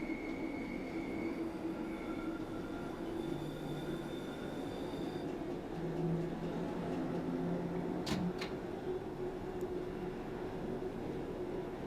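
A London Underground Bakerloo line train in Train Sim World 2 runs with a constant rumbling roar, faint wheel squeals and brief clicks passing over the track.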